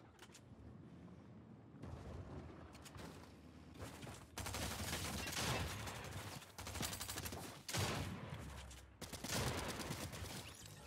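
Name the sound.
sniper gunfire in video game Fortnite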